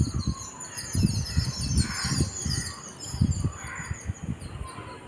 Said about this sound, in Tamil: பறவைங்க சத்தம் இங்கே இப்படி தான் கேட்டுக்கிட்டே இருக்கும்